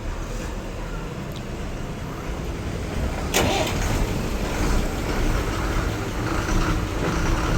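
A KSRTC bus from the Hadagali depot idles at the Kukke Subramanya bus stand, a steady low diesel rumble with a faint clatter, amid outdoor station noise at a constant moderate level.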